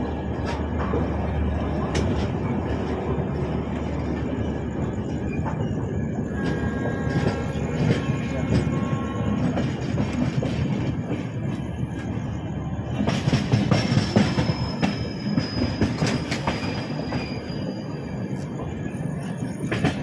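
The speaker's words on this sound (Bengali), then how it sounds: "ওয়েল 5 মিনিট দাঁড়িয়ে কিন্তু নাগপুর স্টেশন থেকে ট্রেন ছেড়ে দিল।" The Howrah Ahmedabad superfast express pulls out of Nagpur station with a rumbling rail roar, rhythmic wheel clatter and sharp squeals, steady and close, with faint voices in the background.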